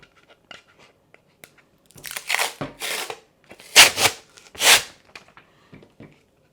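Scissors cutting apart a sheet of transparent glitter adhesive vinyl for an acrylic bookmark monogram: scattered faint snips and rustles, then several louder crunchy cuts in bursts, close and without talk.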